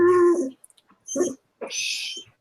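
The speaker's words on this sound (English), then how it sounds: "The dog's complaining." A dog whimpers and whines close by in three short plaintive bursts, high nasal cries with brief silences between, heard alone without talk.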